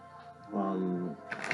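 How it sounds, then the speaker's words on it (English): Tarot cards being shuffled by hand, a short papery riffle near the end that follows a sustained tonal hum and a voice-like sound. "I'm just gonna shuffle these cards just a little bit more."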